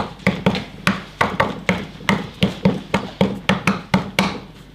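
A hammer drives rubber cush drive cushions into a motorbike wheel hub with steady, evenly spaced, fairly loud taps, about a dozen in quick succession, heard up close with no talking.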